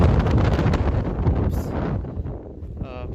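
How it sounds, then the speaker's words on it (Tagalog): Strong wind buffeting the microphone outdoors at a pigeon race release site, loud rumbling gusts that ease toward the end, with a voice talking faintly beneath. "sobrang lakas po talaga ng hangin"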